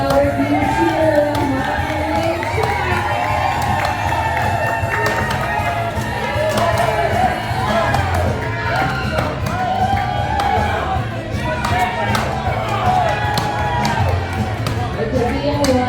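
A crowd at a lumberjack show in Ketchikan, Alaska cheers and shouts steadily, with children's voices and whoops mixed into the continuous roar of the audience.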